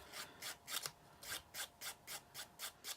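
The wing of a 1:72 scale Airfix De Havilland Vampire T.11/J28C plastic model aircraft is rubbed flat with light, even up-and-down strokes. About ten soft, rasping scrapes come close by in a steady rhythm, with no voices.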